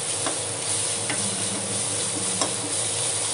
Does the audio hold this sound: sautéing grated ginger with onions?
yes